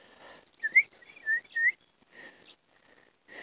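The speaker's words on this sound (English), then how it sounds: "Oh, you're a good bird." Pet bird giving short bright whistles and chirps, a few quick separate calls in a quiet room, close and fairly soft.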